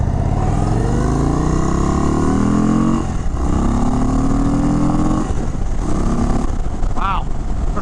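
A 2023 Indian Chief Sport with a large V-twin engine pulls hard through rising gears, a steady loud throttle drone climbing in pitch in repeated surges with brief shift dips, fairly quiet stock exhaust, and a short voice near the end.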